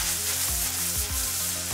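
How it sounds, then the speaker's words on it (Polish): Meat sizzles loudly in a hot pan while frying for bibimbap, a continuous crackling hiss with faint low thumps underneath. "Mięso smażymy"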